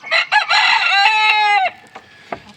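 A white-crested cuckoo Polish rooster gives a single close, loud crow, a strained, drawn-out call lasting over a second, followed by a few soft clucks.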